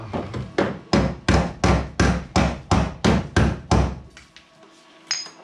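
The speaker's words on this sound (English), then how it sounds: "Got me some Harbor Freight dollies and hammers and stuff." A steady series of about ten sharp metallic hammer blows on a dolly, reshaping rusted Buick Skylark body metal, evenly spaced and loud, then a pause and one lighter tap.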